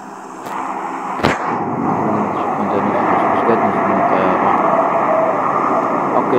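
Propeller transport plane in the PUBG battle royale game drones steadily and loudly throughout, with a sharp gunshot-like crack near the start; someone talks over it.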